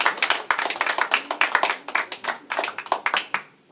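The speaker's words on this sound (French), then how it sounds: "je demande aux artistes d'applaudir le public" Artists on stage at an arts festival in Perros-Guirec clap for the audience, a small group's quick, uneven handclaps heard close, individual claps distinct, fading out at the end.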